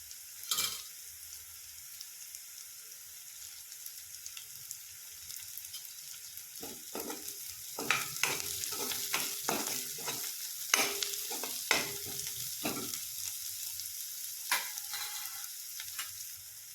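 Onion slices frying in a pan for spicy baingan bharta, a quiet hiss that picks up with bursts of stirring and spatula scrapes partway through, no talking.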